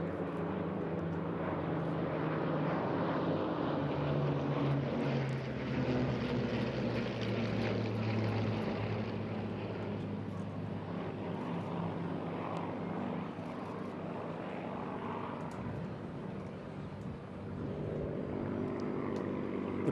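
A vintage Spitfire warbird flying at the Eastbourne International Airshow, its propeller engine giving a sustained, rumbling drone that swells and fades gently as it passes at a distance, with faint crowd noise underneath.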